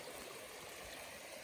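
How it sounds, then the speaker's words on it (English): Small spring trickling across a rain-flooded hiking trail on the Allegheny Front in Pennsylvania, a soft, steady wash of running water, faint and continuous with no voices. "there's a little spring coming out of somewhere here."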